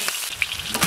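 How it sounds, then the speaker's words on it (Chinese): Scallion and ginger hit hot oil in a wok, giving a brief, loud, close burst of sizzling with a few sharper crackles. "油后下入葱姜爆香"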